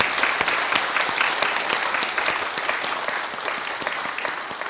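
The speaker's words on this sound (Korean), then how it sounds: "박수하기 원합니다" A church congregation applauds during an Easter Sunday service, giving steady, dense clapping from many hands that fills the room evenly and continues throughout without a break.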